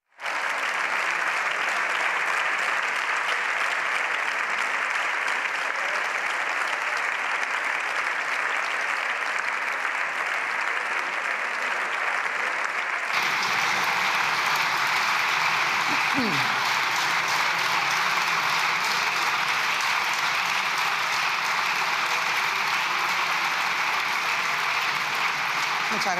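Sustained applause fills the Spanish parliament chamber, a dense, even roar of many hands clapping for the whole stretch, shifting slightly in tone midway.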